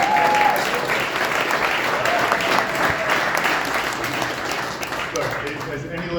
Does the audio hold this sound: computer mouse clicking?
no